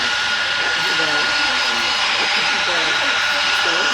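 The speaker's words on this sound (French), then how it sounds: "J'ignore complètement si vous m'entendez bien dans l'oreille avec le son des avions parce que c'est assourdissant" Airliner jet engines, including an A330, roar steadily and deafeningly in the World of Airports airport game, a constant loud broadband wash with a person talking underneath.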